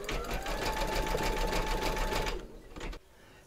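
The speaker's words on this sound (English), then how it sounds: "So pop your hoop back into your machine and stitch round number 7." Embroidery sewing machine stitching a zigzag round in a hoop, a fast close-up whirring chatter with a steady pitched tone for about two and a half seconds before winding down and stopping.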